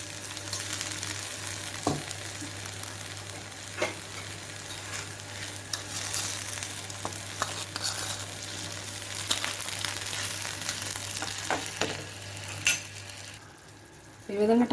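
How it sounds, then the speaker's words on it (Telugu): Tomatoes simmer in oil with salt under a lid in a pan while making mint chutney, giving a steady close sizzle and frying crackle, with a few light clinks and stirring scrapes and no talking. "కొంచెం సాల్ట్, ఒక స్పూన్ ఆయిల్ వేసి మూత పెట్టి బాగా మగ్గించుకోవాలి"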